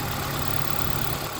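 A car engine with a 1.6 conversion, new extractors and a full exhaust system, idling steadily up close with the bonnet open, a continuous low rumble with no voices.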